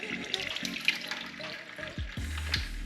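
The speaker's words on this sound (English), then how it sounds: "take some of the water, pour through here" Water pours and splashes through a Kawasaki ZX6R motorcycle engine's cooling passages during a flush, a steady trickling wash with a few brief gurgles and low knocks.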